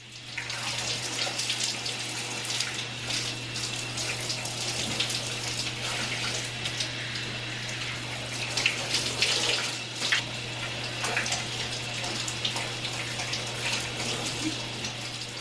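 Water running steadily from a tap while hair is shampooed, a continuous close splashing gush with a constant low hum underneath and no talk.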